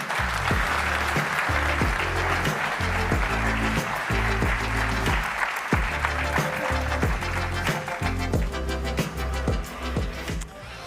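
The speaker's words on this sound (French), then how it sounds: "Et je vous demande d'applaudir Camille Sénéclose." An audience at a French triathlon event applauds loudly and steadily for several seconds, with thumping rhythmic music underneath the clapping.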